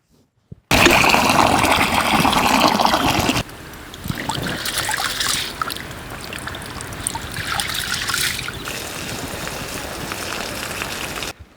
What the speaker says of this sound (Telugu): ఈ బియ్యాన్ని కూడా రెండు మూడు సార్లు బాగా కడుక్కొని